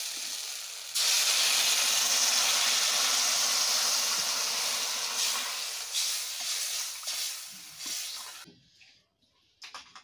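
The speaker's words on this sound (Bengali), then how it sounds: "ঝোলটাকে অল্প সময় ফুটিয়ে নিব।" Broth with ginger powder boiling in a pan for a lentil-dumpling curry, a loud steady hiss lasting several seconds that fades and stops, followed by a few light clatters.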